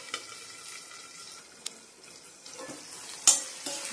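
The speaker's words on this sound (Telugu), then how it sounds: "కట్ చేసిన గ్రీన్ చిల్లీ వేసి వేయించుకోవాలి" Cut green chillies frying in a pan with a soft, steady sizzle, stirred now and then with a few brief utensil scrapes and clinks against the pan.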